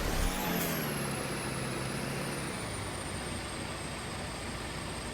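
A vehicle engine idling just after a cold start, a steady broadband rumble with a high whine that fades slowly, loud and continuous with no voices.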